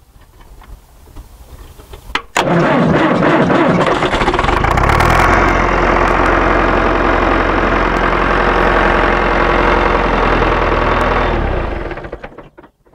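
Old tractor engine, with new pistons and liners, cold-starting on a frosty morning: a quiet lead-in, then a sharp crank and catch into a loud, steady diesel idle with a rhythmic knock that runs close and alone for about ten seconds before cutting off.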